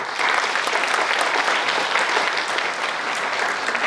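Sustained applause from an audience at a press conference held by Mishal Malik, dense steady clapping throughout at a fairly loud level with no talk over it.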